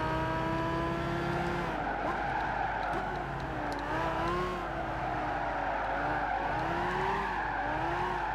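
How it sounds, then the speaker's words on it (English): A Lamborghini Murcielago LP670 drifting in Gran Turismo 5, its engine droning loudly under long, wavering tire squeals that rise and fall through the corner, continuous with no talking. "Hey, but we drifted it around the corner."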